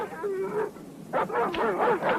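Pursuit dogs in a western film let out a drawn-out cry, then a burst of yelping, howling calls, close and fairly loud over a low rumble.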